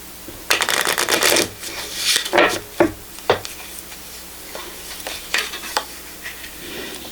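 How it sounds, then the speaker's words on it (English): Guardian Angel cards are shuffled by hand in brisk bursts of rustling and snapping, close and fairly loud, with quieter card handling between the shuffles and no voice. "I will pull a Guardian Angel card for Capricorn."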